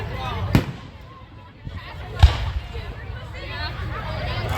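Carnival fireworks burst twice, with sharp booms a couple of seconds apart, over a low rumble and the murmur of a crowd.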